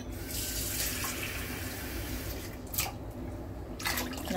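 Tap water runs steadily into a cooking pot of meat for a few seconds, a continuous rushing splash that shifts in tone as the flow changes near the end.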